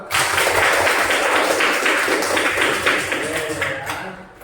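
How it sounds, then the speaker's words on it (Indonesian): Grade 4 pupils clap together in a classroom after a cheer, a dense, steady patter of many hands for about four seconds, tapering off at the end, with voices mixed in. "Tepuk tangan buat kita semua."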